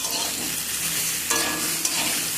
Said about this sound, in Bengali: সব কিছুতে আবারও আমি একটু নাড়াচাড়া করে নিচ্ছি